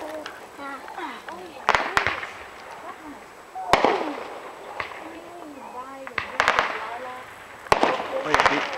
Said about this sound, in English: I think this is a cannon.